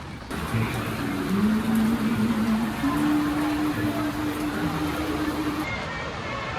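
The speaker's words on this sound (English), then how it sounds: "Rain may be coming down, but my spirits are up." Steady rain pours down at Disney's Hollywood Studios theme park, a dense even hiss throughout, with a faint low tonal hum from nearby machinery or a vehicle under it.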